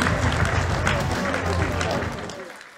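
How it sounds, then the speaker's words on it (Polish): Applause from the audience at a comedy one-man show, broad clapping noise at close range mixed with crowd murmur and voices, fading away toward the end. "Dajcie duże brawa za odwagę."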